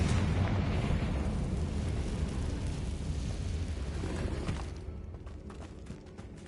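A Confringo spell blast in Hogwarts Legacy, heard as a loud, roaring explosive rumble that holds for several seconds and then fades into a softer crackling tail.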